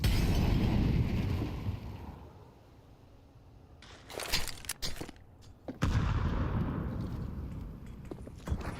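A grenade explosion and gunfire in a professional esports video game match: loud, sharp bursts of shots and a blast cluster in the middle, set among steady in-game background noise.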